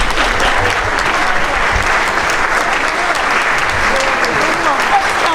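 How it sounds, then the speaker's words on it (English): Folk festival crowd gives a loud, sustained round of applause, dense continuous clapping filling the whole stretch with no break. "Another round of applause."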